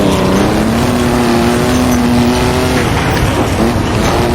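A loud video game race car engine roars steadily with a dense, gritty rattle underneath as the car runs over cobblestones, sustained and close, with no voices.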